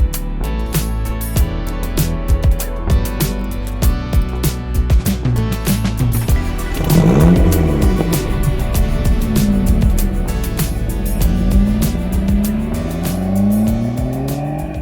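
A first-generation Ford Focus RS being driven on a road, engine note rising and falling through gear changes at steady, fairly loud level with tyre and road noise throughout.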